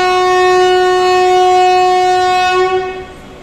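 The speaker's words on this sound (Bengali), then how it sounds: "আমাদের train Amaravati express Shalimar station ছেড়ে যাচ্ছে।" Amaravati Express pulling out of Shalimar station at night with a loud, sustained horn blast that holds steady for about three seconds before tailing off, rail noise underneath.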